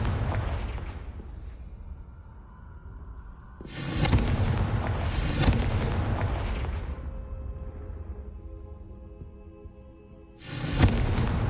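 Loud, booming blasts of the Confringo fire spell in the game Hogwarts Legacy, with a big explosive burst that rumbles and fades over several seconds before another blast erupts near the end.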